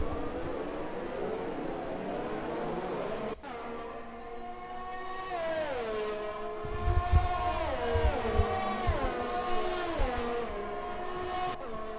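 Formula 1 race cars in the F1 video game scream past with high, rising and falling engine whines, several cars overlapping as revs climb and drop through gear changes, loud and continuous.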